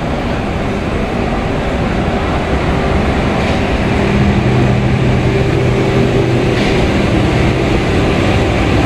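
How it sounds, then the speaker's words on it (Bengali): A train bound for Darjeeling from Kolkata, heading toward Bardhaman, gives a loud, continuous rolling roar with a low drone throughout, as heard from on board; nobody speaks. "তো আমাদের ট্রেন একদম রাইট টাইমে কিন্তু ছেড়ে দিল, 10টা 5।"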